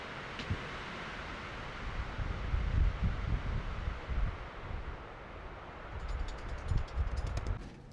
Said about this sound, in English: It's been really windy, and we're just been hunkering down.